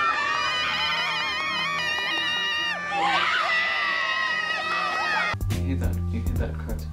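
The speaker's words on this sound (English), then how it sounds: "You hear that crowd support?" A large crowd screams, whoops and cheers in support of a runner climbing Everest, a dense continuous roar of many voices with shrill children's shouts, ending in a sudden shift to a nearer, muffled burst of cheering.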